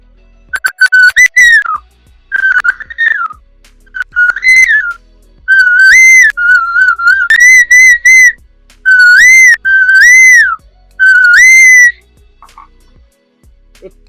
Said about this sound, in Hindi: ये भी बांस से बने हैं जिनमें कोयली के आवाज आते हैं।